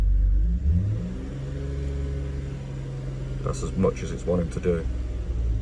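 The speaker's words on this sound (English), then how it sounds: "A little bit naughty revving it" An old BMW E46 engine, being revived after sitting abandoned, runs with a steady, droning hum that swells briefly as it is revved, then someone talks over the idling motor.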